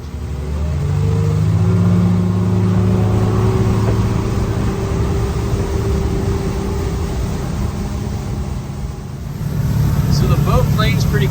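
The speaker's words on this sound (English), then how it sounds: "So the boat planes pretty quick." A 300 outboard engine on a 2023 Key West 239DFS boat drones loudly and steadily, rising in pitch as it powers up onto plane, with a fresh surge near the end.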